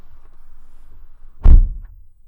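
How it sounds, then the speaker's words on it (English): Door of a Chevrolet Colorado ZR2 Bison shut once, a single solid thud with a short ringing tail after a quiet stretch, close and clear. "let's shut the door on the Bison"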